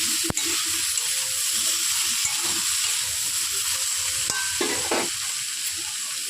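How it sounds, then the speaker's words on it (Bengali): A spoon stirs cumin powder, turmeric powder and ginger paste in a pan under a soft, steady sizzle, with a few scraping strokes and one sharp clink near the start. "আমি ভালো করে জিরে গুঁড়ো, হলুদ গুঁড়ো আদা বাটা সব কিছু দিয়ে একটু সুন্দর করে নেড়ে নিই"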